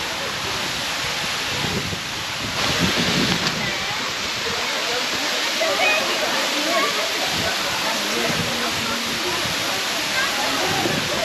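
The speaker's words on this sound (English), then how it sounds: "I've got to go under the waterfall, haven't I?" Waterfall in South Wales, a loud continuous broadband roar of falling water heard up close, with wind buffeting and voices talking over it.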